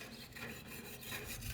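A tool rasps back and forth over cooked-off gray ash inside a Weber Q grill, a close, quiet series of rough scraping strokes with a steady rhythm.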